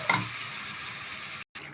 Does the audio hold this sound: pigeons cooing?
no